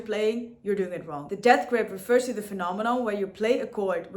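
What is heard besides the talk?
None of the usual background noises is heard.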